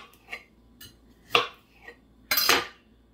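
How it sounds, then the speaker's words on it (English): A knife slicing through a vegetable pinned with a fork for a ratatouille casserole, giving a few separate soft cuts and scrapes, the last one longer and louder, with no talking. "I stick it into my vegetable, and I'm going to get my knife. I'm going to cut"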